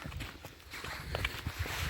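Hooves clop unevenly on hard ground as a Percheron horse walks nearby, the steps mixed with a continuous low background rumble.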